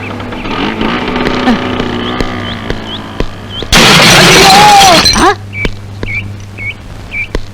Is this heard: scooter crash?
yes